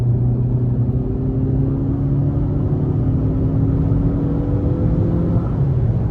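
A 2023 Nissan Altima SR VC-Turbo accelerates at full throttle, a steady in-cabin engine drone climbing gradually in pitch, then easing off near the end.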